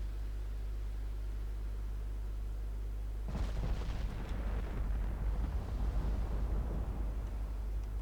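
Naval gunfire from Ultimate Admiral Dreadnoughts sounds as a sudden heavy boom after a quiet stretch of low hum. A rumbling, crackling roar follows and slowly fades.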